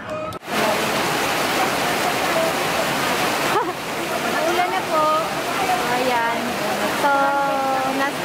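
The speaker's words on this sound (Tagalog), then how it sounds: "sobrang lakas ng ulan" Very heavy rain pours down steadily at an amusement park, a loud, unbroken wash of noise close by, with voices and faint calls rising over it in the later part.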